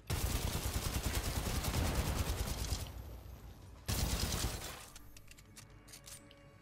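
Titanfall 2 Flatline rifle firing in a dense, loud automatic stream for about three seconds, a short pause, then a second burst that tails off into mechanical clicks and clatter.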